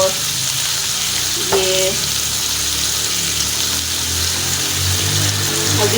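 Ground spices, turmeric and black pepper frying in a pan for beef trotters (paya), giving a steady loud sizzle with faint stirring. Someone speaks briefly over it.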